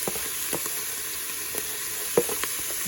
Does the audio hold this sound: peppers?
yes